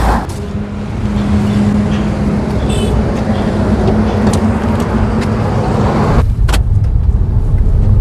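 Continuous road and engine rumble from inside a car at the start of a long drive from Ajmer through Rajasthan, steady and close, with a brief louder whoosh near the end.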